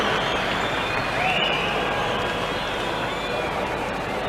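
Cricket crowd at the Sydney ground applauding a hook shot by Rick Darling against Pakistan, a steady broad wash of clapping and cheering that holds at an even level throughout, with commentary voices underneath.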